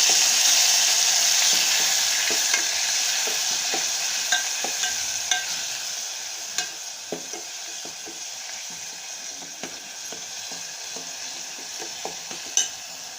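Green chilli and garlic paste with curry leaves sautés in a pan, a steady broadband sizzle with intermittent sharper taps and scrapes of stirring, close and fairly loud throughout, with no talk.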